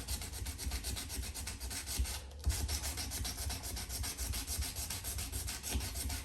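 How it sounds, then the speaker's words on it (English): Steel knife blade being hand sanded at the ricasso with heavy pressure, giving continuous close rasping strokes in a steady repetitive rhythm, with a brief pause partway through and no talk. "there's a little dot about the size of a dime in the ricasso area that really is hard to sand. A lot of pressure and a lot of repetitive strokes."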